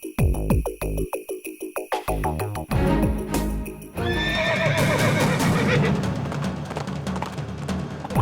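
Horses neighing loudly near a police station, with repeated whinnies and clip-clop hoofbeats at first, then a dense, busy stretch of overlapping whinnies and noise.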